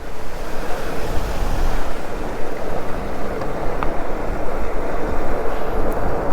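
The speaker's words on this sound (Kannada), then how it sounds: "ನೀರು ಬೀಳ್ತಾ ಇದೆ ಸಕ್ಕದಾಗಿ" Water from a small roadside waterfall rushes in a loud, continuous roar, mixed with wind buffeting the microphone.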